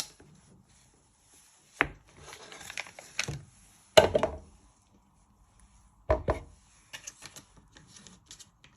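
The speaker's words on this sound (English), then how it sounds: "Chop a little bit more off." A knife chops through butter on a board while making a rocky road cake, giving a few separate close thuds spread out with quiet gaps between them, then lighter taps near the end.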